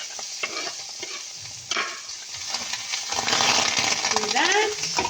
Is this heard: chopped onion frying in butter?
yes